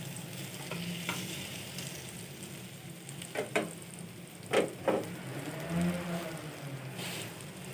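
Egg and bread slices frying in a pan for a quick breakfast, with a continuous close sizzle and several sharp scraping and pressing strokes from a spoon or spatula partway through, no voices.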